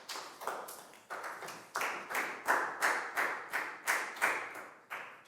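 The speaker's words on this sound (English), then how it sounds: "High five and a big round of applause for Pat, please, guys." Classroom applause in a Year 4 maths lesson, a small group clapping in a quick, even rhythm of bursts, close and moderately loud with no talk over it.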